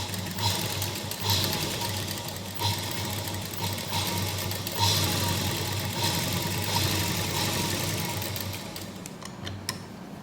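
A sewing machine stitches a salwar in a steady, continuous whirring run close by, with a few brief pauses and changes in pace and no voices.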